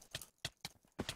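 Horse hooves clip-clop in a Pokémon-style video game, four or five crisp, evenly spaced steps with short gaps between them, fairly close and with no voices over them.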